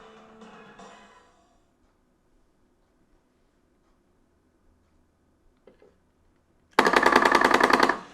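Rapid machine-gun bursts from a SHAR-KADE mini arcade shooter with true-recoil guns, erupting loud and dense in the last second or so after a quiet stretch and brief talk at the start.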